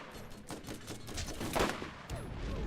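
Assault rifle fire in the video game Tiny Tina's Wonderlands: a steady run of sharp, rapid shots with one louder burst near the middle, close and continuous for the whole stretch.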